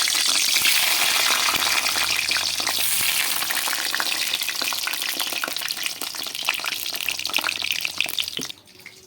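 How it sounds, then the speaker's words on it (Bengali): Eggplant pieces fry in hot oil with a dense, steady sizzle and crackle, loud and close throughout, easing off sharply just before the end. "এবার আমরা আগে ফ্রাই করে নেবো বেগুনগুলো।"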